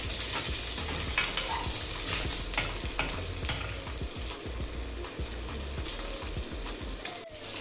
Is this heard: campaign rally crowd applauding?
no